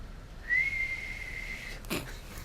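A person whistles in imitation of a bird, a single thin sustained note held for over a second and then a short sharp chirp, alone in a quiet room.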